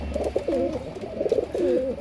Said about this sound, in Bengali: পায়রাগুলো এক করে ঢুকিয়ে দিই, নাহলে পায়রাগুলো খুব ডিস্টার্ব করবে।